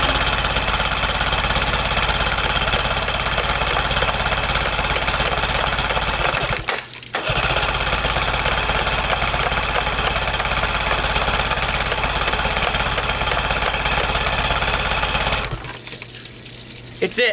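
A 1990 Yamaha Mariner CV30 30hp outboard motor runs with a steady, continuous mechanical drone, broken by one brief dip partway through and cutting out near the end; close and loud, no talk.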